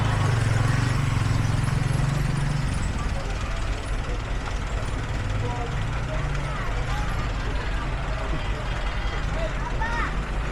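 Old bus idling with a low engine drone while boarding a ferry bound for Ambon, steady and close, with crowd noise and people talking over it throughout.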